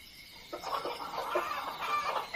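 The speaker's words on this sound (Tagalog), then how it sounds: "Iingay naman ng mga manok mo," Several chickens cluck in a brief, busy burst of overlapping calls, fairly close and steady, with no one talking.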